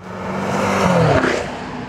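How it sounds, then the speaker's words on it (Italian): Maserati Quattroporte twin-turbo V8 engine in Sport mode with exhaust valves open: a loud engine note rising in pitch as it revs up, then dropping back, heard alone. "passare alla posizione Sport, che rende più aggressiva la risposta del motore e del cambio e apre le valvole dello scarico"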